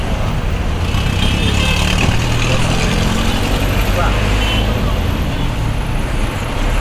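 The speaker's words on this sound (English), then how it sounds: "Huge traffic." Heavy street traffic jams the roads of Kinshasa, DRC, a steady dense roar of cars, buses and trucks running without pause, with a voice talking faintly over the din.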